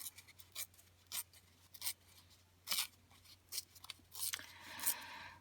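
Scissors cut paper down for a mini journal, a series of short crisp snips and rustles at an uneven rhythm, close and fairly quiet.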